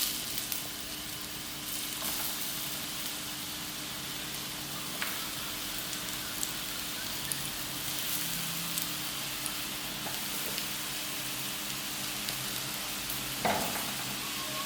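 Chicken vegetable rolls frying in oil on low heat, a continuous soft crackling sizzle with scattered pops, steady and close without speech.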